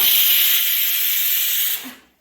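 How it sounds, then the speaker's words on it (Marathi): A kitchen pressure cooker vents its whistle as a loud, steady high-pitched steam hiss for nearly two seconds, then cuts off and trails into silence. "कुकरची शिट्टी"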